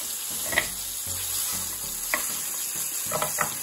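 Salt and pepper chicken wings fry in hot oil with a steady close sizzle, punctuated by a few brief sharp crackles and pops and soft low clatter of handling.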